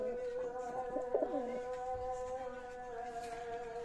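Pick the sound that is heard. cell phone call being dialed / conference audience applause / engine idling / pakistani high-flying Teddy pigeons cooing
pakistani high-flying Teddy pigeons cooing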